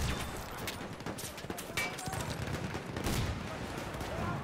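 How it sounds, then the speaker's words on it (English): Rapid bursts of machine gun fire and scattered gunshots in a Battlefield 1 multiplayer battle, dense and continuous, with a voice talking faintly underneath. "Machine gun."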